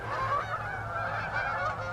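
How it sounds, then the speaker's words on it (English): Geese flying overhead in the sky, honking in a continuous chorus of nasal calls, moderately distant and steady over faint outdoor background noise. "Oh my gosh, and there's geese flying in the sky."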